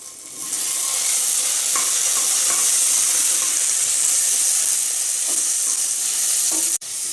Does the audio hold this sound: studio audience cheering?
no